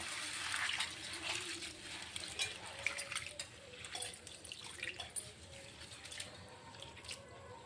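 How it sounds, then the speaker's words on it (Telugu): Water poured over flattened rice (poha) to wash it, a soft continuous running and splashing of water, fairly quiet and close, with no voices. "కొద్దిగా వాటర్ వేసుకొని"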